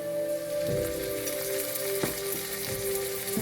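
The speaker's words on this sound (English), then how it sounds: "Fresh ginger garlic paste, 1 teaspoon." Ginger garlic paste frying in a pan with golden browned onions for a Bangladeshi coral fish curry, a steady close sizzle with occasional soft stirring clicks and no talk.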